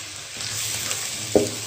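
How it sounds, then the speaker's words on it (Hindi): Onions fry in a pan for lentil curry with a steady close sizzle, and one short scrape of a spoon stirring near the end. "अभी तक हमारे प्याज नहीं हुए तो हम इसमें चम्मच चला रहे हैं"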